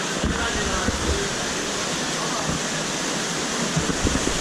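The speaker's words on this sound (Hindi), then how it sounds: "यहाँ पे पानी भी बह रहा है" Steady broadband rush of water flowing in a cold mountain stream along a hiking trail near Darband and Tochal in Tehran, continuous and fairly close, with no speech.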